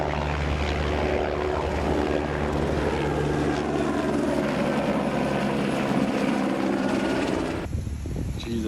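Helicopters flying overhead near a fire, a loud continuous rotor and engine roar with wind buffeting, filling the whole scene before cutting off abruptly.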